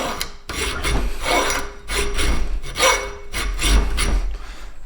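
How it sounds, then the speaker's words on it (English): Hand file cutting jimping into a tool steel knife blank against a file guide: loud, harsh rasping strokes, about five pushes in a steady back-and-forth rhythm, close up and with no talking. "It can be quite loud because obviously it is a tool steel and the file doesn't really like it"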